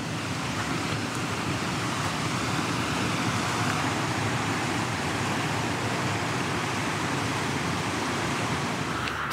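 A winter waterfall near the Alpsee in the Allgäu roars as a steady, broadband rushing wash of falling water, constant and fairly loud with no voices over it.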